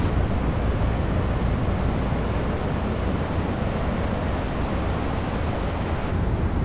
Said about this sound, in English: The waves are beautiful out there.